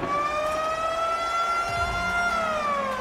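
A loud, sustained period-ending horn from the NHL 21 hockey game blares for the whole three seconds, a steady tone that dips slightly in pitch near the end, with faint arena noise beneath.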